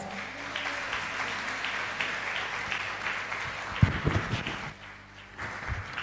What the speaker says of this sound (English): could we please give a warm round of applause for Sherilyn Dos Santos?